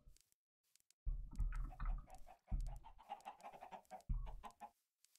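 Chickens in the Minecraft video game cluck in repeated low, choppy bursts, three clustered rounds of clucking with brief gaps between them, fairly faint but clear and without any speech.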